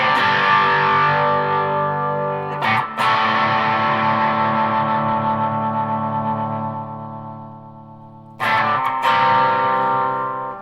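A distorted electric guitar chord through a Yamaha Magicstomp effects unit's drive and reverb rings out and decays with a long reverb tail, then is struck again near the end.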